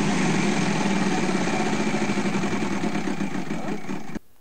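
The big prize wheel on the daytime Wheel of Fortune game show spins in a steady, loud stream of rapid ratcheting clicks that runs for about four seconds, then stops abruptly.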